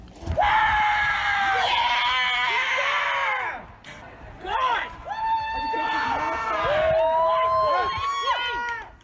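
Victims' families and friends cheer in a courtroom after a guilty verdict at a murder sentencing: loud, sustained, high-pitched shouts and cries from several people overlap continuously, dipping briefly midway before swelling again.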